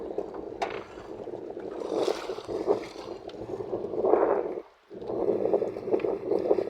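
A small boat out on a dam reservoir, with broadband water and wind noise rolling steadily and a brief dip to near silence partway through.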